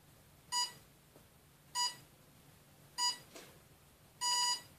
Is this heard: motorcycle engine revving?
no